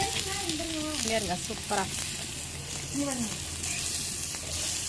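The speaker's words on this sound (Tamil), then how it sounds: "ஆமாம், மீன் வறுத்துட்ருக்கேன்." Fish frying on a stone dosa griddle over a wood-fired stove gives a steady close sizzle and hiss throughout. Someone speaks over it.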